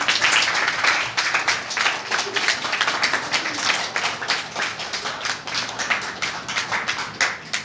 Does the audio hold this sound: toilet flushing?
no